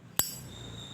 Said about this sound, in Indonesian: bunyi celingnya juga masih nyaring